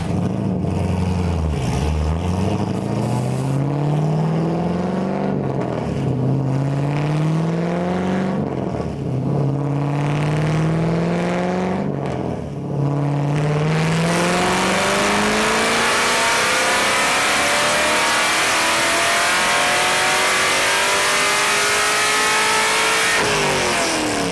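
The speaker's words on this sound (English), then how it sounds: "Mike is running his car now" A race car accelerates hard down a street-racing track, its engine climbing in pitch through several quick gear shifts before settling into a loud, sustained roar with heavy wind and exhaust noise.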